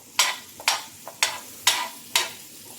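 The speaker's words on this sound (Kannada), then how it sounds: "ಇವಾಗ ಒಂದು ಪ್ಯಾನ್ಗೆ ಅಮೂಲ್ ಬಟರ್ ಹಾಕ್ಕೊಳ್ತಿದ್ದೀನಿ. ಇದು ಸ್ವಲ್ಪ ಕರಗಬೇಕು." Amul butter is stirred as it melts in a pan: five sharp, evenly spaced scraping swishes with a soft sizzle between them, close and clear with no voices.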